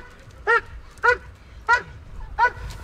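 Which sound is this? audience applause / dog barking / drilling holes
dog barking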